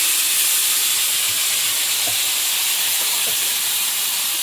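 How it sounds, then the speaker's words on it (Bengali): Five-spice, bay leaf, onion, garlic and ginger paste fry in hot oil in a wok, giving a steady, loud, close sizzling hiss with faint pops and no talking. "কড়াইয়ে তেল দিলাম এখন পুরো তরকারিটা চাপাবো তেলে একটু পাঁচ ফোড়ন তেজপাতা পেঁয়াজ রসুন আদা বাটাটা দিয়ে দিলাম"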